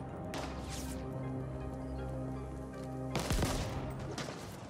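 Gunfire in the video game The Ascent, with dense bursts of rapid shots and blasts running throughout, surging louder in a heavy volley toward the end, with no talk over it.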